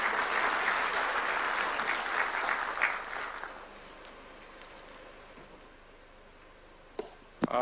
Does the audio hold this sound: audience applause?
yes